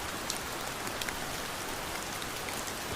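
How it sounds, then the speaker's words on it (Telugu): Heavy rain pours steadily at an Adi Yogi park in Vemulawada, a dense, even hiss of drops hitting the ground that fills the whole stretch with no voices. "ఫుల్ వర్షం కొడుతుంది"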